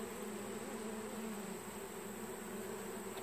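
Honeybees in an opened hive that has recently raised a new queen, a dense, steady buzz from many bees held close and loud for the whole stretch, with no voices over it.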